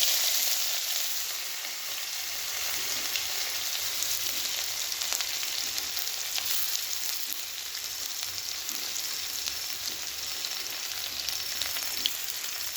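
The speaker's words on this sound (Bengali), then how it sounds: "সাথে রসুনটাকে ভালো করে ফ্রাই করে নেব।" Garlic frying in oil with nigella seeds and panch phoron for an okra dish, a steady, close, even sizzle with faint occasional crackles, no talking.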